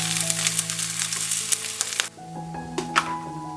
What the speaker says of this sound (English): Going to add in the rest of the broccoli.